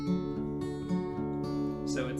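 An acoustic guitar plays a song with downward picking on the first string. Ringing notes sound over sustained lower strings in a steady rhythm, close and fairly soft.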